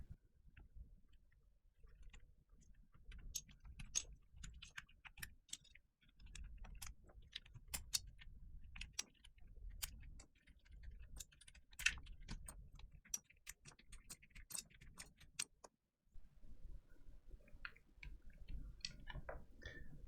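Keycaps are pried one after another off a Fox Lab Leaf 60 mechanical keyboard, giving a steady run of sharp plastic clicks and ticks up close, with a short pause partway through.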